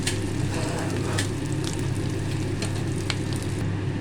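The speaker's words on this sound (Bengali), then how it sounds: "মাছের ডিমগুলো দিয়ে ভেজে নেব।" Fish roe fries in a pan of oil with a loud, steady close-up sizzle and crackle that runs throughout, with no voices.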